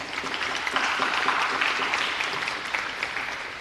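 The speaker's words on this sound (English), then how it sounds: "So let's just give them a little round of applause." Sustained applause from an audience at an undergraduate honors ceremony, a dense, even patter of clapping hands at a fairly loud level from start to finish, with no voices on top.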